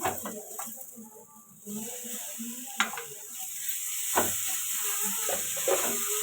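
Fish fried in a pan with cooked onions sizzles softly and steadily while a spoon stirs it, with a few sharp scrapes and knocks against the pan.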